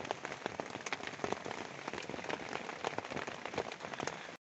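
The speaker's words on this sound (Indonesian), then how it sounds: "berhubung cuaca di luar masih gerimis" Light drizzle falling outside during a pre-dawn summit preparation on Mount Slamet, a steady close patter of fine rain on a surface that cuts off abruptly at the end.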